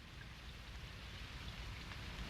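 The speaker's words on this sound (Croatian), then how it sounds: "Pada kiša." Steady cartoon rain falls in a park, interrupting a baseball game: an even, dense hiss of drops that holds for the whole stretch with no voices.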